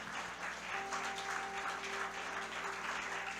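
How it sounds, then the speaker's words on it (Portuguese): A church congregation applauding during a service, a steady, soft wash of many hands clapping with no breaks, heard from a distance under a faint tonal hum. "pode dar uma salva de palmas para o Senhor Jesus"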